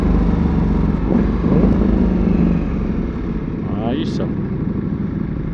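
A Ducati Diavel 1260 motorcycle idling loudly after a cold start, a steady close engine rumble with a brief rising rev, while someone speaks briefly over it.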